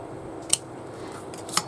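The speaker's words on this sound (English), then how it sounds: "I will probably just cut where that fold is and fold it under" Fabric cut along a fold with ordinary, non-fabric scissors: two short, distinct snips about a second apart over a low room hum.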